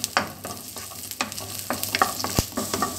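Tamarind, ginger and garlic fry in oil in a pan for a Tamil thuvaiyal, giving a quiet, steady sizzle with scattered stirring scrapes and one sharp knock.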